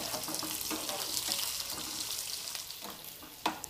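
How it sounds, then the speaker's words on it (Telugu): Eggplant bajji curry ingredients fry to brown in a pan, a continuous hissing sizzle with scraping stirs and a sharper clink near the end, with no talk. "అందుకని కొంచెం బ్రౌన్ కలర్ వచ్చేదాకా వేయించుకుందాం."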